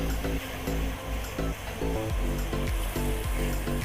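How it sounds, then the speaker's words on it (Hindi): Onions frying in a pan over medium heat, a steady, loud sizzle that fills the whole stretch with a dense hiss, with music playing underneath it and no talking. "मीडियम आंच पे हम प्याज को फ्राई करेंगे।"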